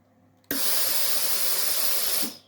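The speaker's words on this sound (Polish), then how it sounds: "Para działa." Steam bursts from a Philips Series 8000 PSG8040/60 steam generator iron in one sudden, loud, close hiss that holds steady for nearly two seconds before stopping, with only faint room noise around it.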